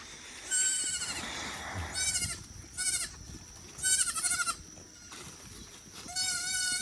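Several high, wavering bleats from young Nigerian Dwarf goats come in bursts with short pauses, close by, with no talking.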